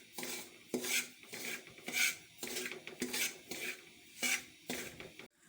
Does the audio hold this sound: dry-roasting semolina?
yes